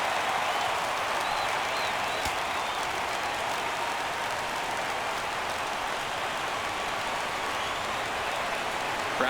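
Stadium crowd in the MLB The Show 17 baseball video game, during a Houston at Miami game: a steady, dense roar of cheering and clapping that holds at an even level throughout, with no speech.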